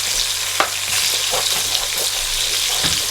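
Nigerian party fried rice seasoned with Knorr Aromat sizzles steadily in a hot pan, with a constant hiss and intermittent scraping clinks of stirring throughout.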